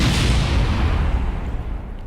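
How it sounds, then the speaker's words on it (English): A spacecraft explodes in Kerbal Space Program, heard as a loud, dense roaring rumble that starts at full strength and slowly fades over two seconds with no voices. "Did you hear that explosion? That was our spacecraft over there."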